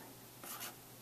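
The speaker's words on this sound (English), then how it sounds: "let me go and write this down" A pen or pencil scratches briefly as a number is written by hand during a math probability calculation, a faint short stroke against quiet room tone.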